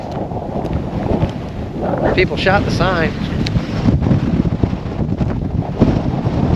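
Strong wind buffeting the microphone outdoors in the loess hills, a constant loud rumbling roar, with a person talking over it.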